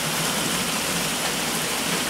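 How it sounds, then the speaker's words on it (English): Steady rain falls on a mountain, a dense even hiss of drops on surfaces that carries on without a break at moderate loudness, with no voices. "It's raining."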